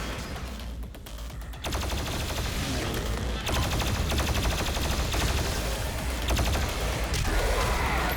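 In Doom Eternal, the BFG 10,000 fires amid a loud, dense barrage of rapid blasts and thundering impacts, building after a brief quieter moment into a sustained roar of gunfire.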